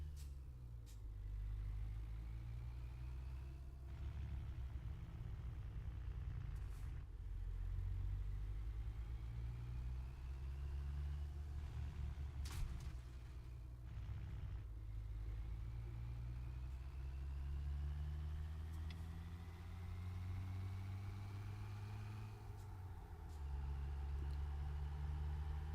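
A truck engine idles in a trucking video game with a low steady rumble, broken by several short sharp air hisses and gentle rising revs that come and go over a long stretch.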